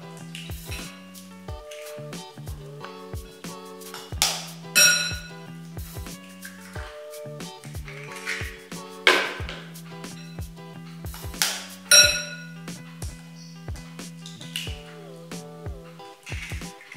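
A metal fork mashes tofu in a bowl, giving repeated clinks and soft scrapes against the bowl in an uneven rhythm, close and moderately loud, with occasional sharper taps.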